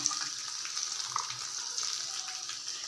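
Green chilies fry in hot oil for an idli dish, giving a steady close-up sizzle with faint crackles and pops throughout, and no one speaks.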